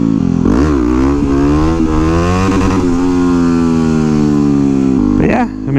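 A 2009 Yamaha WR250X supermoto engine revs hard and loud through repeated rising and falling surges while wheelieing, close up with wind rush, ending in a sharp blip of throttle.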